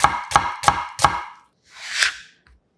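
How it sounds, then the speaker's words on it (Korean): Knife cutting a sweet onion into thick strips on a board, four crisp, evenly spaced chops close up, followed by a brief softer scraping swipe, with no talk. "달큰한 양파 5분의 1개는 살짝 굵게 채 썰어 준비하고"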